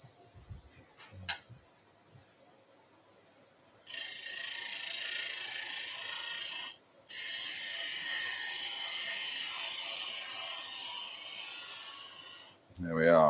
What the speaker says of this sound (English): So all I'm going to do is clean the surface.